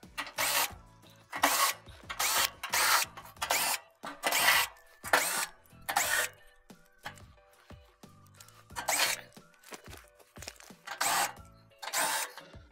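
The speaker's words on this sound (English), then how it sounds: "Next, we'll remove our 7mm bolts that are holding the top panel on." Power drill backing out 7mm bolts from the top panel of an oven, heard as a series of short, loud whirring bursts separated by brief pauses, close by with no talking.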